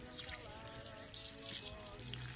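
Water from a hose splashes steadily onto the ground at the base of a small mango tree, a faint continuous close trickle and patter with low background rumble.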